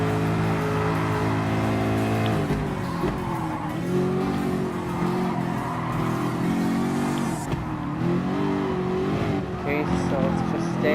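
Race cars, including a Nissan, a Ferrari and a Ford GT LM Spec II, roar through Spoon corner in Gran Turismo Sport, with engines revving up and down and tyres squealing continuously while someone talks over them.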